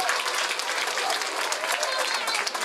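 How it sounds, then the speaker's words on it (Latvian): A crowd at a school song and dance festival in Līvāni applauds a children's dance group, dense continuous clapping that stays loud and even throughout, with no talking over it. "Atbalstīsim ar lieliem aplausiem"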